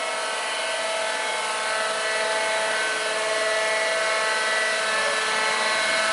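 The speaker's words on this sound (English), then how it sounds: "It's a hydraulic saw." A Marvel 81 hydraulic vertical bandsaw with 18-inch capacity cuts steadily, giving off a constant loud high-pitched whine and hiss with no pauses.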